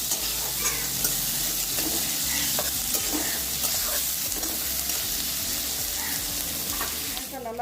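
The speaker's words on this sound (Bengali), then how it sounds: "এরপর দিয়ে দিচ্ছি কেটে রাখা পেঁয়াজটা 4-5 মিনিট ধরে খুব ভালো মতো করে লাল লাল করে ভেজে নিচ্ছি" Chopped onions sizzle and crackle steadily in hot oil in a pan, with repeated scraping stirs throughout, loud and close, no talking.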